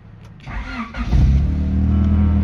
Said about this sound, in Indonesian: Starterannya enteng, mudah, gampang.